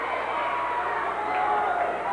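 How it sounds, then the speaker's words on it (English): Crowd cheering in a wrestling arena at a 1985 Portland Wrestling show, a steady, distant roar of many voices that holds for about two seconds, with a commentator's voice faintly in the mix. "The crowd knows what's going on."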